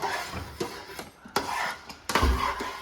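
A utensil scrapes and knocks against a pot while a thick rice flour sweet mixture is stirred, giving a few irregular clacks and scrapes at close range with no talking.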